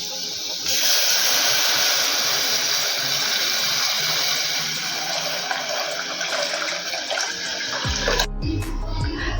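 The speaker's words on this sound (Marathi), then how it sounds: "आता यामध्ये ताक टाकूयात" Buttermilk pours steadily into a pan for Maharashtrian kadhi, a loud continuous rushing liquid stream that holds for several seconds and stops abruptly, followed by a low clatter.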